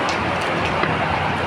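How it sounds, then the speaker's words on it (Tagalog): Steady rain falls on a quiet, traffic-free road, a dense, even hiss with no pauses that stays constant from start to finish. "umuulan siya"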